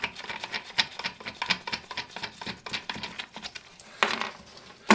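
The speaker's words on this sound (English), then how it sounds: "take your pair of pliers, grip the nut, and rotate it counterclockwise" Close scraping, gritty rubbing and small clicks of pliers gripping and turning a toilet seat nut counterclockwise, coming in short irregular bursts with no voices.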